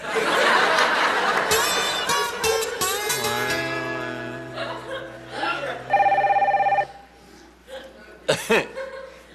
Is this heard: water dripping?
no